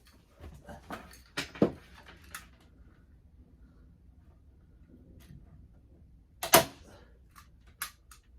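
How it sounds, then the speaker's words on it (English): A staple gun fires while someone works underneath, stapling material overhead and zigzagging it: sharp snaps in irregular clusters, with two louder shots standing out against a quiet background. "I'm going to crawl underneath it and actually start to staple some of this up there"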